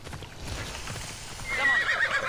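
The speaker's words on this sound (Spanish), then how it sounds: "Ojo, sí que corre, macho, el caballo." A horse gallops in Assassin's Creed Odyssey, rapid hoofbeats drumming steadily close by, and a bright whinny rises over them near the end.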